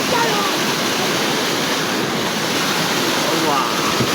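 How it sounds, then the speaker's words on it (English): Manso Waterfalls in Bono, Ghana roars as a steady, dense rush of falling water heard up close, continuous and loud with faint wind buffeting on the microphone. "This is the MANSO Waterfalls."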